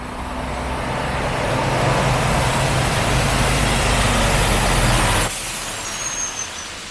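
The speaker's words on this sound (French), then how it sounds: "excusez-moi pour le camion qui va passer" A truck passes close by on the road, its engine rumble and roadway noise swelling for several seconds and then cutting away abruptly, with no voices over it.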